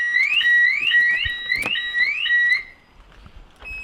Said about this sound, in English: Oh, now the alarm's gonna go off.